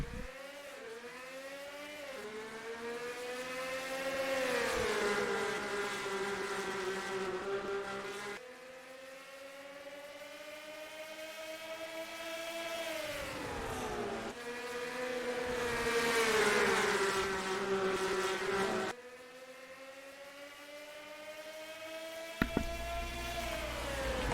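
Race cars roar around the track in a NASCAR-style racing video game: engines whine and sweep in pitch through repeated passes and gear changes. The sound is steady and moderately loud, with a brief sharp knock near the end.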